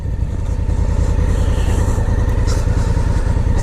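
Motorcycle engine, an Africa Twin or Hypermotard SP, runs at a steady low rumble while the bike is reversed; loud and close, continuous throughout with no talking.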